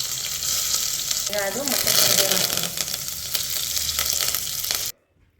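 Mustard seeds, cumin and garlic sizzle and crackle steadily in hot oil in a home kitchen, a loud continuous frying hiss with brief speech over it, cutting off abruptly near the end.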